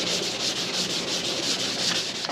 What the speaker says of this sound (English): This is not a stainless steel top, it is a steel top, so occasionally to make it look better, we give it a little bit of sand